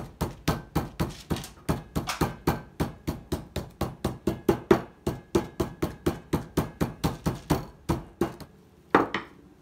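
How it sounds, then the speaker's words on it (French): A small meat mallet pounds meat for homemade cordon bleu, about thirty sharp, evenly spaced thuds in a steady rhythm, close and fairly loud, followed by a brief handling clatter at the end. "avec mon petit marteau, je vais l'attendrir"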